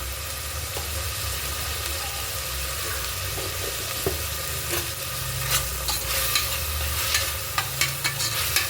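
Bitter gourd and spices, including turmeric and sambar powder, sizzle and fry in a pan with a steady hiss, while a spoon scrapes and stirs in scattered clicks that sharpen toward the end.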